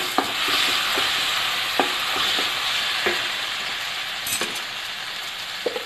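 Spice powders and salt stirred and fried in a pan for Malabar chicken biryani, a continuous close sizzle with a spoon scraping and tapping the pan at intervals.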